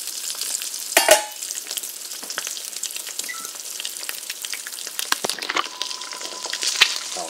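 Eggs fry in a hot pan for a pita wrap, giving a loud, steady sizzle and crackle close by, with occasional scrapes and taps of a utensil and no talking.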